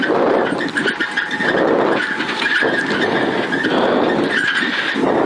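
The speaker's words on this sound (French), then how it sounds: "Ça c'est le moteur." A Renault Clio RS rally car, number 80, competing in the 2022 RS Micky rally, roars loudly and continuously at close range with a harsh, strained engine note and squealing tones, without talk.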